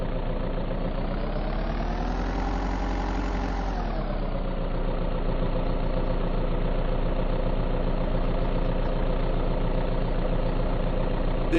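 An RV engine idles steadily in the survival game Vein, a loud, continuous low rumble that swells briefly in pitch before settling, with no talk.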